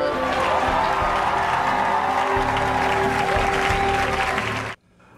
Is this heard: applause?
yes